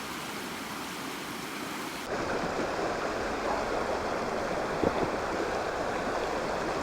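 The Chéran River in Savoie, France flows steadily as a broad, continuous rush of water that grows fuller and closer partway through, with one faint splash, and no voices.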